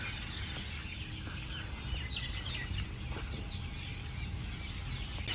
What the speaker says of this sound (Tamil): விதவிதமான குருவி சத்தமாக இருக்குது.